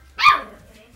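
A single short, high yap from a puppy outdoors, close and clear against a quiet background.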